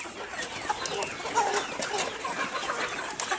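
Layer hens on a poultry farm clucking and chattering at feeding time, a busy flock of overlapping calls with occasional louder squawks over a steady bed of farm noise.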